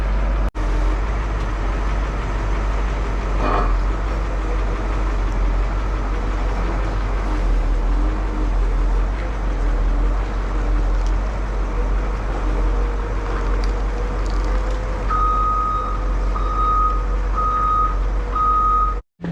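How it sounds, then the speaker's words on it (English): A giant forklift rumbles loudly and steadily during parts removal from a Caterpillar motor grader. Near the end its reversing alarm starts, a regular series of evenly spaced high beeps over the engine drone. "take our giant forklift, ease this thing up, and go park it out there"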